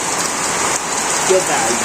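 Dense, steady rain pouring down and pattering on a surface, close and loud, with no voices.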